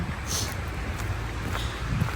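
Steady winter wind in Finland rushes and buffets the microphone in a low, continuous roar, loud and close, with no talking.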